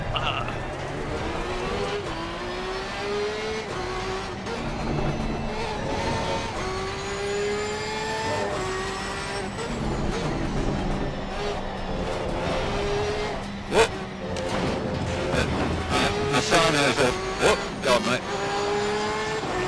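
Porsche 992 race car engine in a racing video game, rising and falling through gear changes with whining revs, plus brief tire squeal and knocks late on, steady and loud under occasional talk.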